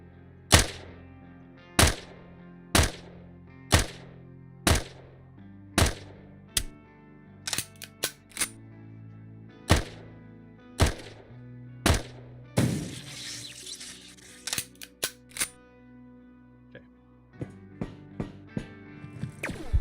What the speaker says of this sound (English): maybe I'll just shoot from here